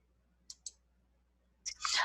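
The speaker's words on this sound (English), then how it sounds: "simply by clicking and selecting your contact and clicking delete" Two crisp, quiet computer mouse clicks land in quick succession while a user selects and deletes a contact, followed after a pause by a louder rustling burst.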